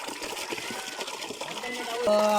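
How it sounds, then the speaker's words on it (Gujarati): Water runs steadily into a bucket at a rural farm property in Gir, a continuous close rushing splash that rises slightly toward the end as the bucket fills, with faint voices in the background. "એક ડોલ ભરાઈ ગયું છે પાણીની અને બીજી ડોલ ભરું છું પાણીની"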